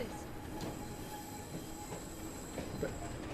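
Train in Assassin's Creed Syndicate, set in Victorian London, giving a steady rolling rumble with faint wheel squeal and rhythmic clatter. Constant, moderately loud, with no voices.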